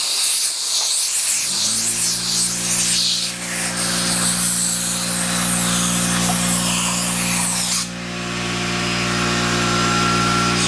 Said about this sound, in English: Sorry about the compressor noise